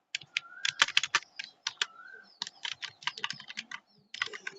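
Rapid bursts of keystrokes on a computer keyboard, with close, crisp clicks in quick runs broken by short pauses, and a brief gap before the final flurry.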